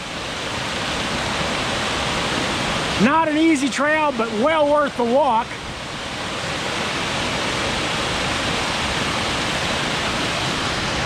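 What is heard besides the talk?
Eagle Falls waterfall on trail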